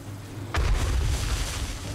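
A single heavy boom from an explosion during a horde night in the survival video game 7 Days to Die, with a sharp onset followed by a loud, sustained low rumble that fills the rest of the moment.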